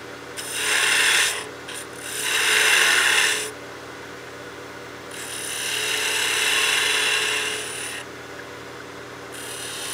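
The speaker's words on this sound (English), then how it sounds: "We'll get our spindle gouge and do that cove." A spindle gouge shaves a cove into a small wooden birdhouse ornament spinning on a wood lathe, giving steady close raspy hissing in two bursts, then a quieter stretch and a longer, smoother cutting pass.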